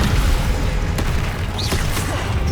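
Descendo spell cast in the Hogwarts Legacy video game, heard as a steady, dense rumbling boom with faint swishing magical tones over it, loud and continuous throughout.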